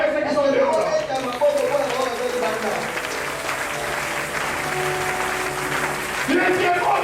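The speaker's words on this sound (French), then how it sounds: "Est-ce qu'on peut acclamer ceux qui sont dehors?" Church congregation applauding those following the service from outside: sustained, loud, continuous clapping from a large crowd, with voices and a speaker talking over it throughout.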